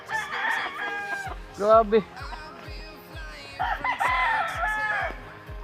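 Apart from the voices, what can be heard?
chickens clucking and rooster crowing on a mini farm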